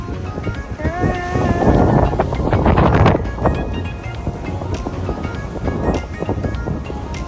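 Wind buffets the microphone by the sea on Maafushi Island, Maldives, with a steady roar of rushing air and surf beneath brief voices and some movement.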